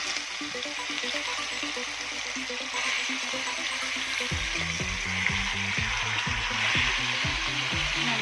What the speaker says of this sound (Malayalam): എണ്ണ നന്നായി ചൂടായിട്ടുണ്ട് നമുക്ക് അതിലോട്ട് ചിക്കൻ ഇട്ട് കൊടുക്കാം